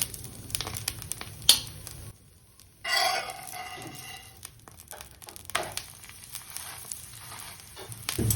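Sabudana-free fasting thalipeeth roasts in oil on a tawa, giving a soft crackling sizzle with scattered pops and a brief louder burst of spitting, fairly close and quiet, with light scraping noises and no talk.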